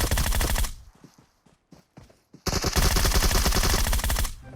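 Rapid automatic gunfire from a PUBG Mobile match, loud bursts of shots that break into a few scattered single shots and then resume as a sustained heavy barrage.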